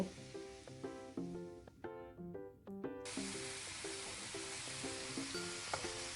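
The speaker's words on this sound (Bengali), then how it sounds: "ভেজে রাখা উচ্ছে ও সজনে ডাঁটা দিয়ে আরও কিছু সময় ধরে আমি কষিয়ে নেব" Fried bitter gourd and drumsticks sautéing with ginger and green chilli in a pan for sukto dal, a soft steady sizzle that swells into a louder hiss partway through, with light clinks over it.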